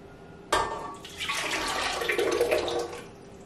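Warm liquid, cooled melted butter for bread dough, is poured into a mixing bowl: a sudden splash followed by a steady, close pouring trickle lasting a few seconds before it stops.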